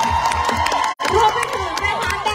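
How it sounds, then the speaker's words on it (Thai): Crowd cheering and shouting at a live department store event at Central Westgate, with excited voices, some children's shouts and claps continuing throughout, broken by a brief gap near one second. "ขอเสียงปรบมือให้ Central Department Store หน่อยค่ะ"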